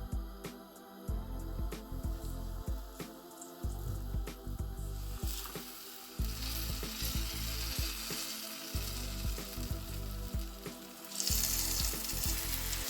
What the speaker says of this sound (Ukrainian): Смажу рибку на середньому вогні.